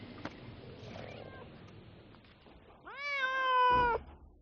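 A cat gives one long, drawn-out meow close by, rising then holding steady for about a second, following a stretch of low background noise.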